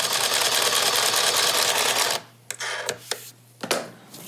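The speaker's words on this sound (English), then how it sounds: "Now I'm going to serge all of the edges of this belt before we attach it to our skirt." A serger overlock machine runs steadily for about two seconds as it finishes the edges of a fabric belt for a wrap skirt, then falls quiet, followed by a few brief clicks and short bursts.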